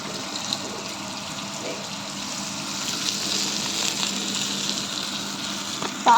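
Broasted chicken pieces fry in very hot oil, producing a steady, moderately loud bubbling sizzle that swells slightly midway, with a clatter near the end and no voices heard.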